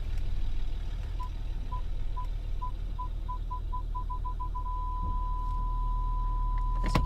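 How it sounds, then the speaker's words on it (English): Parking sensor on a Ford Territory beeping while reversing: spaced tones that quicken steadily, then merge into one continuous tone, over a low engine hum. "the parking sensors do work, so let's have a little go here."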